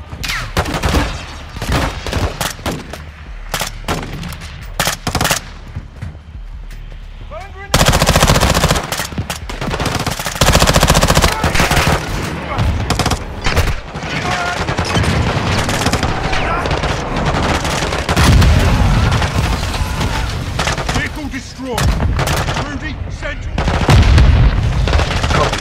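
Heavy cover fire in the Modern Warfare II campaign's prison break mission: sustained automatic rifle bursts and booming shots, loud and dense throughout, with shouted voices mixed in.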